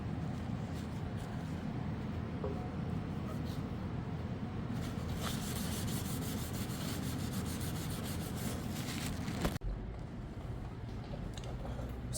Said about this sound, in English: spray it on the tissue, and then you can clean it just to make sure the RTV will stick in the pan